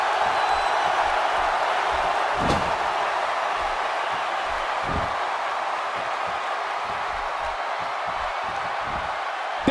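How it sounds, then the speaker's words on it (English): Wrestling crowd in a Detroit arena, a large audience roaring steadily from a distance, with scattered thuds and slams from the ring cutting through the continuous cheering. "Detroit has had the reputation for being an electric crowd, and the fans here in attendance tonight are indeed no different."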